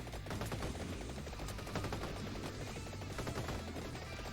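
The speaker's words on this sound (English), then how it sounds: "that long gun really fires quickly" Rapid fire from the long gun weapon in Vampire Survivors, a fast, steady stream of quiet repeating shots layered with busy game effects.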